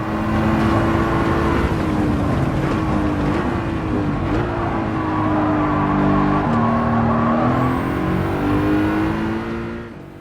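Race car engines in Gran Turismo 7, including a Ferrari F8, droning loudly and steadily on a straight with shifting pitch as gears change and another car stays close behind.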